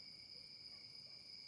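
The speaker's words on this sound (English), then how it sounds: "Judea was filled with a symphony of crickets" Crickets chirping at dusk, a faint, steady high-pitched trill sustained as a continuous distant chorus, with no voices.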